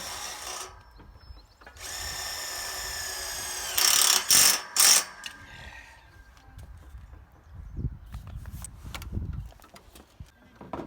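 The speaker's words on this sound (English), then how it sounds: "we'll actually use the ratchet strap to move them" A ratchet strap is cranked to shift the walls of a building under construction, making bursts of close, clicking ratchet strokes with a few louder clacks and pauses of handling and shuffling noise between them.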